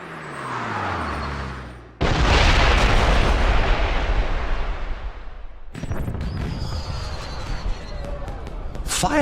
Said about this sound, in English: Fireworks? Did you know there were going to be fireworks?